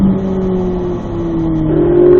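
A car picking up speed on a race track in third gear, the engine note climbing steadily and growing louder, heard from inside without talk.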